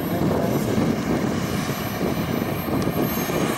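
A de Havilland T55 Vampire jet roars steadily past during an air show at Henley, South Africa, a loud broad engine rush that holds for several seconds with no talk over it.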